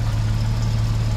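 A swapped engine idles in a Toyota FJ62 Land Cruiser that has a slight exhaust leak, giving a steady, low, continuous rumble close by with no voices.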